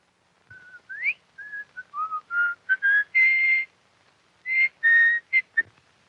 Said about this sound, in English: You don't mind if a man whistles to himself, do you?